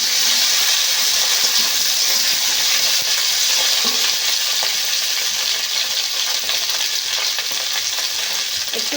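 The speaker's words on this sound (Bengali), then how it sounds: "যে কেটে রেখেছিলাম ভেন্ডিগুলো কড়ার মধ্যে দেব। একটু ভালো করে ভাজতে হবে।" Sliced okra fries in a kadai with a loud, dense, continuous sizzle and hiss, steady throughout with faint stirring scrapes beneath, no talking.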